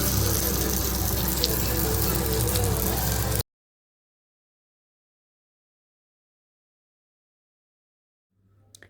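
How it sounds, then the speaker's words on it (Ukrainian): Zucchini rounds fry in vegetable oil with a dense, steady sizzle for about three seconds before cutting abruptly to silence. "Обсмажуємо кружечки кабачка на рослинному маслі приблизно по 5 хвилин з обох сторін."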